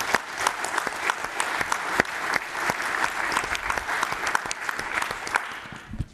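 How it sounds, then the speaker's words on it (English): Audience applause at a DENOG14 network operators' conference closing session, a steady dense round of clapping from a large room lasting throughout, with a few sharper nearby claps standing out and no talk over it. "I guess it's worth another round of applause"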